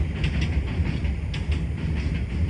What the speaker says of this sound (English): Trains going by, lots of train ASMR in the background